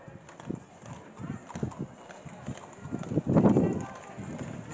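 Ten-year-old Ardennais draft horse walking, hooves clip-clopping in a steady uneven rhythm of soft thuds, fairly close, with a louder rustling burst partway through and light background noise.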